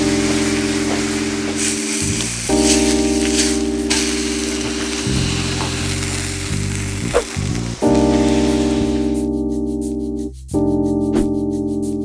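Spices frying in hot oil, a steady, close sizzle that crackles on without pause, with a brief tonal hum running beneath it.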